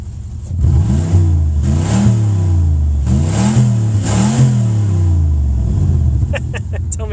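A Cadillac Northstar V8 heard from inside the cabin revs repeatedly, about four rising and falling throttle blips over a loud idle rumble, ending with a few clicks.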